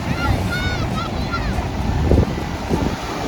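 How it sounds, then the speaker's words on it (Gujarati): Waves wash steadily onto the shore at Shivrajpur beach near Dwarka, with constant wind buffeting the microphone and faint voices of people nearby. "આજે જોઈ રહ્યા છો એ છે શિવરાજપુર બીચ."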